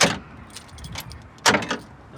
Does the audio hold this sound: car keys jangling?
yes